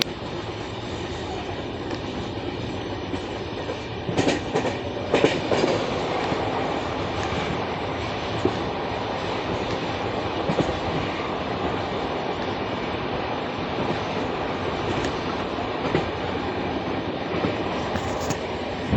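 Malwa SF Express running at about 105–110 km/h between Indore and New Delhi as an oncoming train crosses past, with a loud, steady rumble and rattle of rail wheels throughout and no talking.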